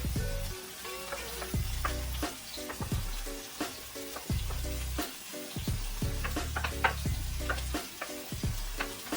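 Chopped vegetables, onions and carrot hitting a hot pot all at once, giving a steady loud sizzle broken by repeated clattering stirs and scrapes, with no talking.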